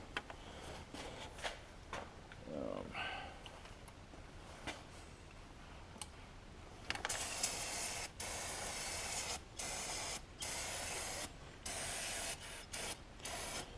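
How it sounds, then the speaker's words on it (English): Brake cleaner is sprayed in several bursts onto the engine of a 2013 Chevy Cruze 1.8 liter during a water pump replacement. Each burst is a loud, close, steady hiss, separated by brief pauses, with faint handling noises before the spraying starts. "I'm going to squirt all that down with a little brake clean,"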